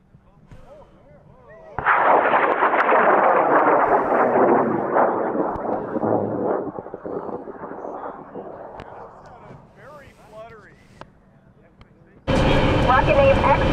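A high power rocket lifts off at a rocket launch event, a loud roaring blast that starts abruptly and rumbles on for several seconds before fading into distant crackle, with a second loud burst near the end.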